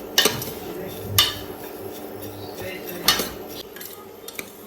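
Vermicelli roasting in ghee in a pan on an induction cooktop, a quiet background with several sharp metallic clanks and scrapes of a spoon against the pan, spaced irregularly and close.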